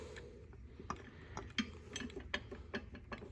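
A belt tensioner on a Kent milling machine is loosened, giving a string of sharp ratcheting clicks and metallic taps in irregular rhythm, close and fairly quiet.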